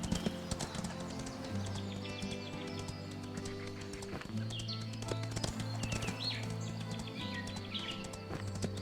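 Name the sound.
horse hooves clip-clopping in video game Windstorm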